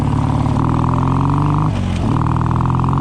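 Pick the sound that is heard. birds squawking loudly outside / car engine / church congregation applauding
car engine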